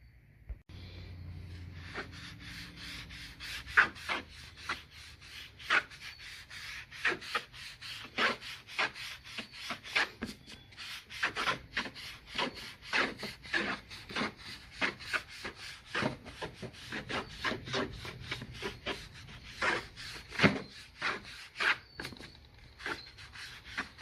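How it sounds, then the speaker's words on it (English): Instant shoe polish being rubbed onto track, heard as a long run of quick, dry rubbing strokes in an uneven rhythm, close and fairly quiet, with no one talking. "this smart shoe polish, instant shoe polish, which I rub on the track"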